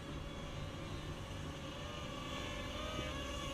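A small DJI Tello drone hovering in flight, giving off a continuous, even whirring buzz with steady high tonal whine from its propellers, close and unbroken throughout.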